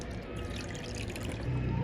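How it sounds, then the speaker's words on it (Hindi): Water poured into a kadhai holding a sohan halwa mixture, a steady continuous pour and trickle heard close up with a low hum underneath, no voices. "अभी इसमें हम डालेंगे पानी।"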